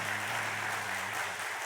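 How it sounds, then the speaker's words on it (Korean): A church congregation at a Sunday service applauds after praise singing, a dense, steady wash of clapping with a faint tonal hum beneath. "마음 담아서 박수"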